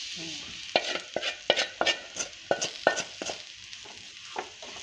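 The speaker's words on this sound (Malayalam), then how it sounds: "വറുത്ത് വെച്ച മീനും കൂടെ ഇട്ട് അങ്ങോട്ട് ഇളക്കണം നന്നായിട്ട്" A spoon stirs fried tuna pieces into oily pickle masala in a pan, giving a series of sharp scraping knocks with a steady sizzle underneath.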